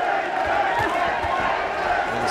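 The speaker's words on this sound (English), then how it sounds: "listen to these fans" A dense boxing crowd in Belfast roars and cheers continuously at a fight, a loud, steady wash of voices with a commentator speaking over it.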